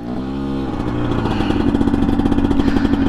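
A GPX TSE250R motorcycle engine on a test ride, idling with a low hum before picking up into a fast, pulsing putter that stays close and steady.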